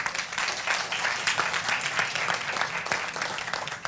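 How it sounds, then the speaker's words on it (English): Audience applause at a vegan anniversary celebration, a dense, steady burst of many hands clapping throughout, fairly close and even in loudness, with no voices over it. "A big round of applause to all of them."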